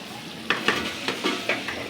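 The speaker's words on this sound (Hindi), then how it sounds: "और अब मैं इसमें अदरक लहसुन का पेस्ट ऐड करूँगी 1 चम्मच भर के।" Ginger garlic paste frying in masala in a pan, a steady sizzle broken by several stirring scrapes at uneven intervals, close and fairly soft.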